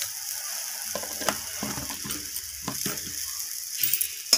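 Spices with ginger, garlic and salt sizzle and fry in a pan while a spoon scrapes and clinks against the metal, giving a continuous hiss with irregular scraping strokes close by.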